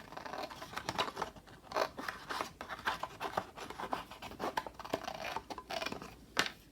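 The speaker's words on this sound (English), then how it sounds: "And take your scissors and cut here." Scissors cutting through paper for a junk journal pocket, a steady run of close, crisp snips and rustling paper scraping repeating for several seconds without talk.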